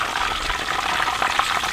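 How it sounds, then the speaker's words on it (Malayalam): Injected chicken sizzles in hot oil in a pan just after being turned, a dense, even crackle and bubbling hiss running without break and fairly close. "നമ്മൾ കോഴി ഒന്ന് തിരിച്ചു കൊടുക്കാം"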